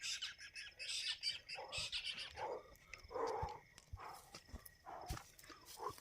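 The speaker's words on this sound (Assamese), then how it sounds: "এনেকৈ ৰাতি যদি চৰাইটা মাত মাতি বেয়া ভয় লাগি যায়" A bird squawks repeatedly at night beside a field hut, its harsh calls coming in irregular bursts over a steady insect-like hiss, with a few soft thumps like footsteps in between.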